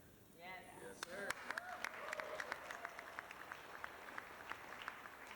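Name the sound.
wedding guests clapping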